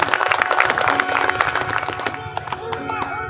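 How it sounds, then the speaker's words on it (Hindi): Audience at a Mahashivratri gathering breaks into dense, steady clapping, loud and close, with a speaker's voice running over it and the applause thinning toward the end. "बजाइए तालियां"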